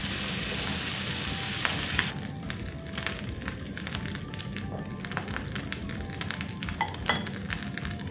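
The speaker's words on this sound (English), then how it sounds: "So now we're just going to flip the last few pieces of beef. We'll let those cook for a minute," Raw beef pieces fry in a pan for a beef and broccoli dish, a steady close sizzle running throughout with small scattered crackles and light scraping as the pieces are turned.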